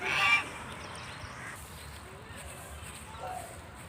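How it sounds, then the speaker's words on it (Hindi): Ducks honk and quack briefly beside a canal, a short loud call at the start and fainter calls later, over outdoor background noise with a person speaking. "ये बतख बतख बतख"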